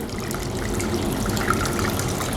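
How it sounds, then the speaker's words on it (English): Water running steadily from a spout into a print wash, a continuous broad trickling flow at moderate level with no voices. "Water's going to start coming out, and then water's going to start coming out of here."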